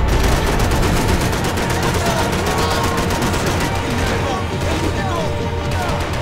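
Dense, continuous gunfire from Max Payne 3, with rapid shots and bursts stacked into a sustained fusillade that stays loud for the whole stretch, a voice talking faintly beneath it.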